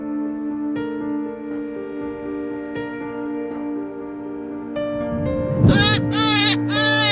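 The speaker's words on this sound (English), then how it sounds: "Have you ever heard a hare screaming?" Sustained tonal drone, then a few loud, harsh, wavering cries near the end, shrill and piercing, from a hare screaming in distress.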